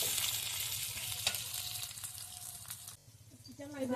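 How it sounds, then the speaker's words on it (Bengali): Onions for vegetable semai sizzle loudly as they are stirred in a pan, with a dense hiss and occasional scrapes. After about three seconds the hiss drops away and a voice starts briefly near the end. "পেঁয়াজটা দিলাম এবার একটু নাড়াচাড়া করে দিচ্ছি নাড়াচাড়া করে ভেজে নিচ্ছি একটু ভালো করে"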